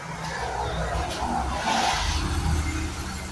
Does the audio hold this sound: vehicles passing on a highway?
yes